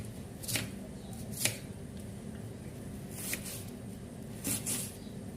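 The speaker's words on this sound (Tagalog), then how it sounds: "Una po natin gawin is maghiwa tayo ng ating sibuyas." A knife chops onion by hand on a board for Filipino lumpiang Shanghai, giving several crisp, well-spaced cuts over a steady background hiss.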